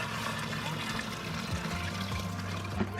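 Water pours steadily for chickens on a homestead, a continuous splashing stream heard close up, with voices talking over it.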